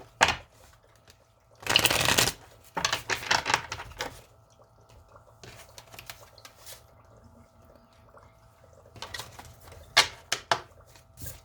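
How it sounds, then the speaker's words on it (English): Intermittent shuffling of tarot card decks, a long riffle followed by scattered softer shuffles and taps, with quiet gaps between bursts, close by. "Still shuffling."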